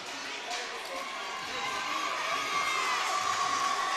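A packed gym crowd at a Lady Tigers state semifinal basketball game roars and cheers continuously, with children shouting and voices mixed into the swelling noise.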